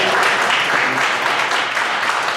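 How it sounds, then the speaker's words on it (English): Audience applause for a Texas state senator at a Fort Worth breakfast gathering, a steady dense wash of clapping that holds loud and even from start to finish. "Yeah, you can applaud."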